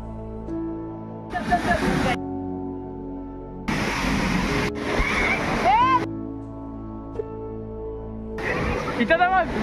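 The Bhivpuri waterfall on an easy monsoon trek gives a broad roaring wash that surges in and out in bursts, loud at times, while people nearby shout and talk over it.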